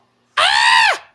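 A person's voice imitates a screaming goat cat with one loud, strained, bleating shriek about half a second long, trailing off into a falling wail.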